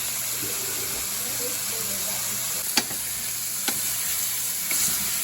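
Bacon sizzles steadily in a pan as clams casino pizza is prepared, a constant crackling hiss punctuated by a few sharp pops and ticks, close up with no talk.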